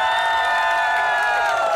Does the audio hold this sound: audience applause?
yes